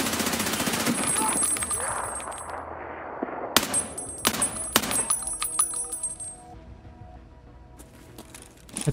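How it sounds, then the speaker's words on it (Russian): Several sharp Remington shotgun shots crack out in a quick burst amid Escape from Tarkov game noise and a voice, followed by metallic pings and quieter clatter. "Это сейчас где был выстрел Ремингтона?"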